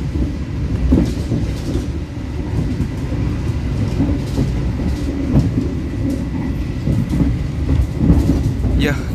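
Inside the Argo Bromo Anggrek executive train in Indonesia as it runs at speed on the rails, a steady low rumble with faint rhythmic wheel clatter, while passengers talk over it.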